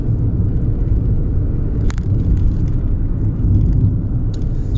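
Skoda Fabia 1.0 MPI third generation from 2015 driving on a badly broken road, with a steady low cabin rumble and road roar, plus a few brief knocks and rattles, no talk.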